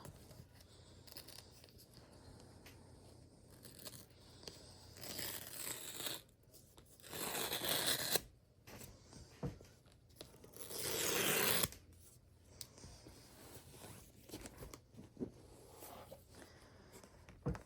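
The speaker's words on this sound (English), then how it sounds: "we are going to unbox the new Magic Keyboard" Packaging for an Apple Magic Keyboard being opened, with rustling and crinkling, then several loud bursts of tearing and ripping, close and unaccompanied by talk.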